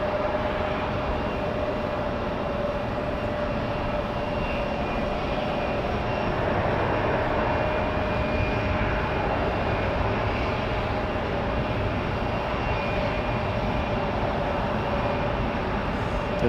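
An Envoy regional airliner's engines hum at Raleigh-Durham airport on a rainy day, a continuous moderate roar with a steady high whine running unbroken, no voices over it.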